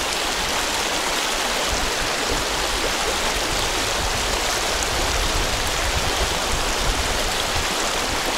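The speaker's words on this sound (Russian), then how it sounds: "Река довольно мелкая." A shallow mountain trout river rushes over stones in a steady, loud broadband wash, close by and unbroken, with no voices.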